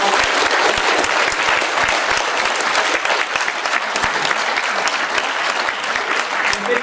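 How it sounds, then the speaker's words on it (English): An evening audience applauds its two guests at the close of a trade and tariffs discussion, with dense, steady clapping that stays loud and unbroken from start to finish. "Give them a round of applause."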